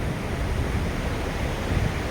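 A village river flows past in a steady, broad rushing wash of water, close and uniform with no pauses or voices throughout the short stretch.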